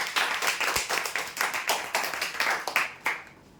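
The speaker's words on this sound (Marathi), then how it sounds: "जोरदार टाळ्या होत्या त्यांच्यासाठी" Applause at a prize draw event, a small group clapping briskly for a few seconds, close and fairly loud, with uneven bursts that fade out at the end.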